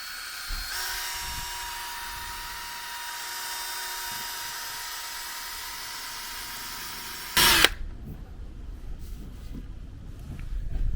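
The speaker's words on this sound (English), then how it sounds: "I've now swapped over pads, so we're on the buffing one now, just to try and take off some of the residue" A drill-driven buffing pad polishes an oxidised, foggy car headlight, a steady high whine held for about seven seconds before stopping with a short burst of contact noise, then quieter handling sounds.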